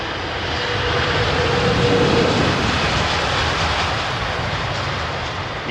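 A jet airliner descends to land in snowy weather at London Heathrow Airport, its engines a broad, steady roar that builds and holds throughout without any talk.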